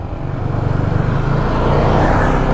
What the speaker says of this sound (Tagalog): Bibilis dito guys ng mga sasakyan